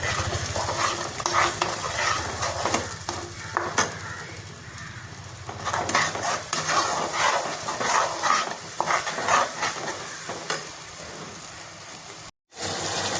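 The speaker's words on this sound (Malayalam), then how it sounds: "അതുവരെ നമ്മളിങ്ങനെ ഒന്ന് ഇളക്കി കൊടുക്കണം." Masala for a chicken dish frying in a pan while a spoon stirs it, giving a continuous loud sizzle with repeated scraping strokes against the pan. No one speaks.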